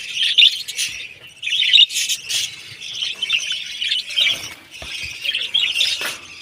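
Pet birds in a cage give repeated high, bright chirps and squawks in short bursts, close and fairly loud, with faint rustling between the calls and no talking.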